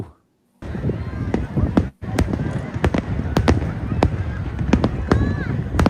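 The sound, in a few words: fireworks exploding in recorded video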